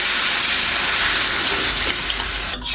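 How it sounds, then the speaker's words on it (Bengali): Hot water poured from close by into a pan of fish curry with potatoes and shol fish, a steady loud rushing pour that cuts off near the end. "এখন গরম জলটা দিয়ে দিচ্ছি"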